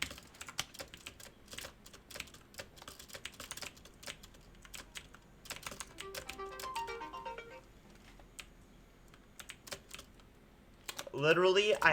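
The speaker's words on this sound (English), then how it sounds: "Literally, I have a phone alarm that just went off." A phone alarm rings with a melodic chime partway through, over near-constant rapid keyboard typing and clicking, and a voice breaks in at the end.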